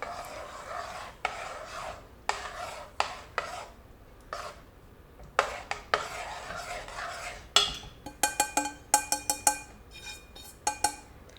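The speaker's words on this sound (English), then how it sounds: "You have to do it slowly and keep on stirring so there are no lumps formed." Rava being stirred in a pan for upma: a spoon scrapes in repeated gritty bursts with short pauses, then turns into quicker, sharper metallic clinks and taps against the pan near the end. No talking.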